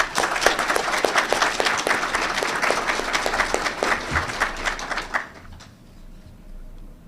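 A round of applause at a military award ceremony, many hands clapping steadily for about five seconds before fading into a quiet, roomy hush.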